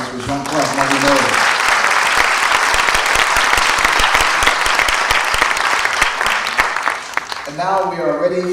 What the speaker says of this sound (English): Let's another round of applause for Jean-Claude Marginalized.